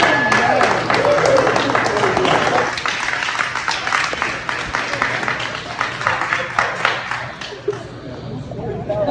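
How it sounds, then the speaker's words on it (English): Audience applause at a one-pitch open-mic night, dense clapping that fills the room, easing slightly and thinning toward the end with crowd chatter mixed in. "we have to give her another round of applause"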